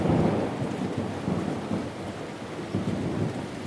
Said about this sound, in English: Outside, a light rain has begun to fall against the skylight.